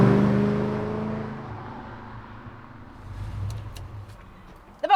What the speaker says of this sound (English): The LS1 in this car has been singing all day and I've loved listening to it.